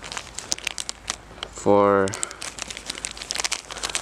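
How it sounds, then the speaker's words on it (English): A plastic bag crinkles and rustles in sharp bursts as it is handled, wrapping a hand-crank radio, while a person talks over it. "I have it in this plastic bag so it's waterproof"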